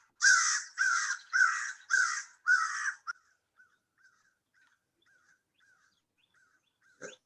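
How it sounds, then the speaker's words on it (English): Five loud, harsh American crow caws in a steady rhythm, close by, followed by faint scattered calls and one short sharp call near the end. "These are American crows."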